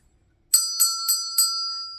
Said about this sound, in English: Ring the notification bell for all notifications.